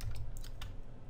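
Brief run of light, irregular keystrokes on a computer keyboard, close and quiet, with no voices.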